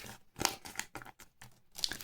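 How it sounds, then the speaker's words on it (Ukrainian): A small paper packet is torn open and unwrapped, giving a few sharp tearing bursts and crinkles spaced through a couple of seconds, close and fairly loud with quiet gaps between. "Мені дуже кортить розпакувати цей пакетик."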